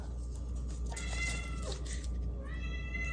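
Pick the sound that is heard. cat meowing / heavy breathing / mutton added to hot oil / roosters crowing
cat meowing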